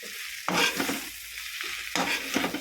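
Mashed potato bhaji stirred in a pan, two scraping sweeps of the spoon over a soft sizzle, close and brief with no talk.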